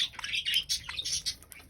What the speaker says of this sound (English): 30 budgies,